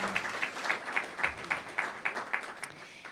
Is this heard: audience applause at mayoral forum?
yes